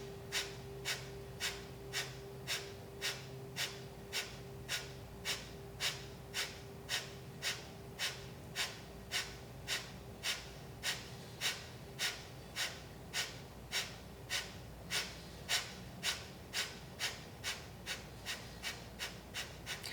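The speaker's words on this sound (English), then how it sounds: "Take a breath in. Take a breath out." Rapid pranayama breathing exercise in a seated class, a steady train of sharp, forceful breaths roughly twice per second, close and loud, continuing without pause and with no talk.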